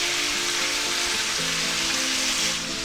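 Thick chuck steak sizzles steadily in a buttered pan with rosemary, a loud continuous frying hiss with no talk.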